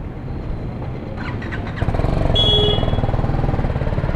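A blue BMW G310GS motorcycle fitted with guards idles close by, a low pulsing single-cylinder thrum that grows louder and more insistent partway through as the throttle rises.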